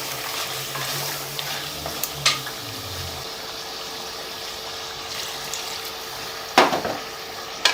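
Mutton karahi is stirred with spices in a pan, a steady low sizzle of frying under scraping and clinking of the spoon, with a few sharper knocks against the metal.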